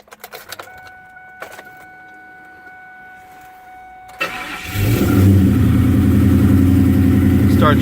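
A 2003 SVT Cobra's engine cranks and catches at about four seconds, then settles into a loud, steady, deep idle that continues close by, after a few quiet knocks and a faint tone beforehand.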